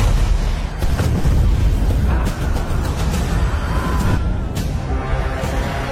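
Battlefield explosion effects from the Barbarian series, set amid an assault on fortress lines: loud, continuous rumbling booms with several sharp bursts near the middle and again later, dense low-end roar throughout.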